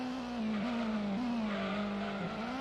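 A race car in Gran Turismo holds a steady, droning engine note with brief dips at gear changes or lifts as it rounds a banked, cambered double-left bend, close and continuous with no talk.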